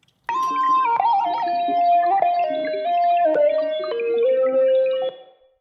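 A lead patch in the Massive X synthesizer, derived from a bubbling pad, plays a stepping melodic line of bright, distorted notes with glides between pitches, sustained for several seconds before a quick fade.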